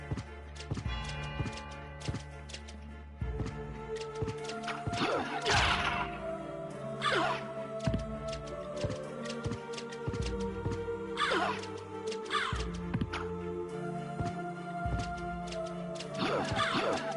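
A crow caws repeatedly in Castlevania: Symphony of the Night. The harsh calls land over a busy game soundtrack with periodic thuds and crashes, and no one speaks.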